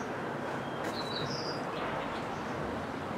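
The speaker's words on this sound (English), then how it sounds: "the song of the birds" Faint bird chirps and short whistled calls drift over a steady, loud rushing background noise.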